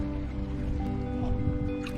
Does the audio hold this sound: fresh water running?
yes